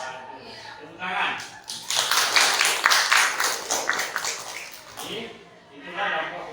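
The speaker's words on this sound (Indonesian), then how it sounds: "Tepuk tangan." An audience claps hands in a classroom-style gathering, a burst of scattered clapping that swells for a few seconds and then fades, with voices around it.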